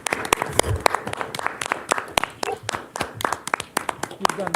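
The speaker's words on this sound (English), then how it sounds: "Let's give her a round of applause." Applause at a county commissioners meeting, a modest group clapping in sharp distinct claps rather than a dense roar, with people talking over it.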